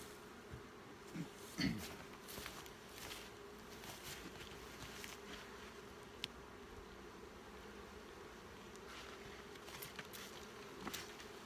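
Honeybees buzz around brood frames in an apiary: a dense, continuous hum of many insects, fairly close, with occasional louder passes and faint rustling.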